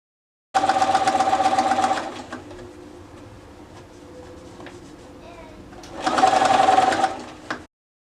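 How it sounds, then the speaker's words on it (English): A sewing machine top-stitching bias tape around a fabric changing mat, two loud close bursts of rapid whirring stitching separated by a quieter pause with faint handling sounds. "I'm ready to fold the bias tape around and stitch a top stitch all around my changing mat"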